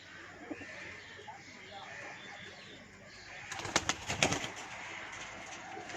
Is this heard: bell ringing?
no